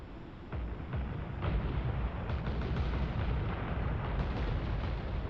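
A massive cruise missile barrage in the Nuclear Option combat game lands as a dense, continuous roar of booming blasts and rumbling detonations, loud and sustained, with no talking.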